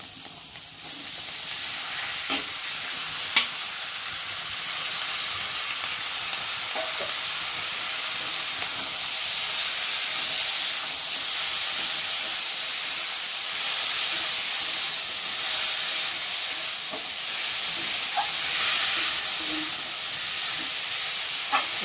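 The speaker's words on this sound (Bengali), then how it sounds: "এখন এই যে সেদ্ধ করে রাখা মোচাটাকে দিয়ে ভালো করে কষিয়ে নেব।" Boiled banana flower stir-fries with spices in a pan, a soft, even hiss of sizzling that runs steadily for the whole stretch with occasional faint taps of stirring.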